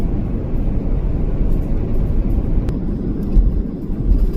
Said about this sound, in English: And there's a helicopter.